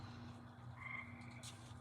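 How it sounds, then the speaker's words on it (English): Frogs croak faintly in the distance over a low steady hum, with a brief higher chirp near the end. "Do you hear the frogs in the background?"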